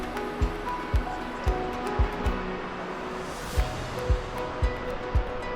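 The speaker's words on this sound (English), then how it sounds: "Big waterfall right there." A big waterfall in a canyon in Kootenay National Park, heard as a steady, full rushing roar of falling water, with a series of regular low thumps running through it.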